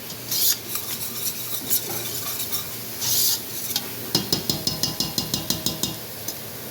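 Food sweats down in olive oil in a home kitchen pan, sizzling steadily while a spoon stirs and scrapes, ending in a quick run of rhythmic metallic taps on the pan, with no talk.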